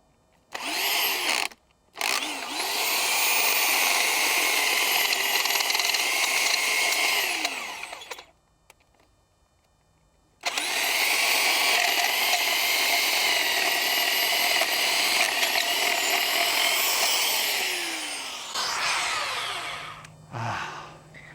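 A power drill, not in hammer mode, whirs loudly in two long sustained runs, with a brief start and a short pause between them, then winds down near the end.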